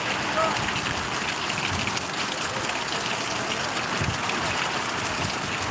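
Rain pours down steadily and heavily, a dense unbroken wash of drops hitting surfaces nearby with no pauses.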